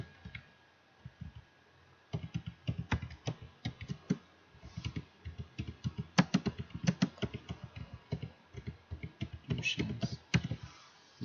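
Keys clatter on a computer keyboard while someone types a business card in MS Word, close irregular bursts of clicks after a brief pause, with a voice speaking at times.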